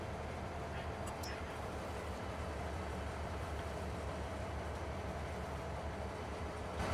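A steady, low rumbling drone of a train rolling along in Farming Simulator 22, continuous and fairly quiet, with no clear breaks or voices.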